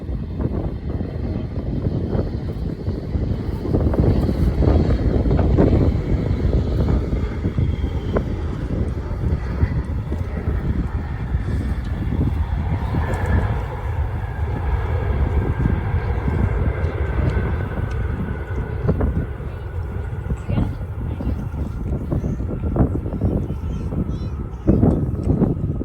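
A Boeing 777 airliner on a low landing approach produces a loud, sustained jet roar, heavily mixed with gusty wind buffeting on the microphone throughout.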